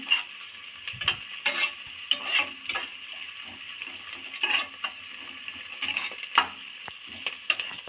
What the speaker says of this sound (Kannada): ಒಗ್ಗರಣೆಯಲ್ಲಿ ಇಷ್ಟು ಫ್ರೈ ಆದಮೇಲೆ ಸ್ವಲ್ಪ ಚೆನ್ನಾಗಿ ಫ್ರೈ ಮಾಡ್ಕೊಳ್ಳೋಣ